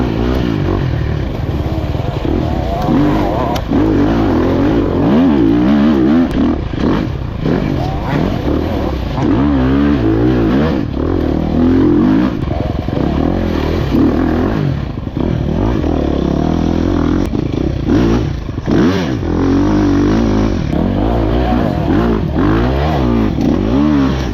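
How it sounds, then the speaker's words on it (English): Enduro dirt bike engine revving hard in a low gear while climbing a slick rocky hill during a race, loud and close, with continuous throttle surges and clattering throughout. "Luckily enough, I was able to downshift into a lower gear and kind of get the bike moving"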